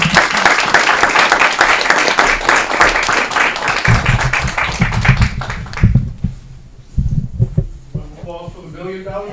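Applause breaks out at a city council meeting as a $1 million check is presented, a dense wash of clapping that fades after several seconds into speech, with low rumble and voices underneath.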